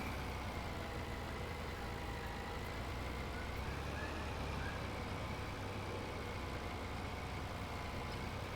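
A small Massey tractor engine drones steadily in a Farming Simulator game, a constant low rumble and hum held at an even level throughout with no talking.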